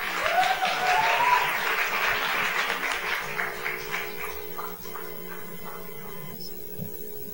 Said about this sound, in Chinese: 将这张掌声归荣耀给神